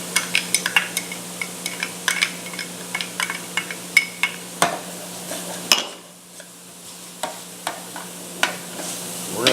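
Finely chopped garlic cooking in a pan for shrimp and grits, with a steady sizzle under frequent close clinks and scrapes of a utensil against the pan, a brief lull near the end, no talking.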